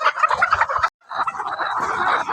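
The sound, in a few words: laying hens clucking in a poultry farm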